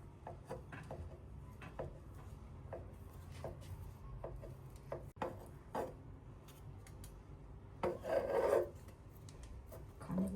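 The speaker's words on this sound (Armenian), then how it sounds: "Հիմա կտրում ենք այսպես բարակ և դնում ենք վրա։" Thin slices cut with a knife, crisp rasping strokes on a board while preparing Armenian samsa, repeated irregular cuts close by with a louder burst of scraping near the end.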